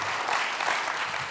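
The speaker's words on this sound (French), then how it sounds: "vous avez même le droit à des applaudissements" A lecture audience breaks into applause, many hands clapping in a brief, even wash that sounds a little distant and fairly soft.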